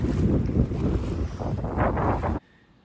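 Strong wind buffets the microphone at sea as a sailboat anchors over shallow sandy bottom, a loud continuous rush with gusting surges that cuts off abruptly near the end.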